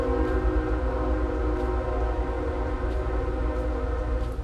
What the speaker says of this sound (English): That train's loud, yo.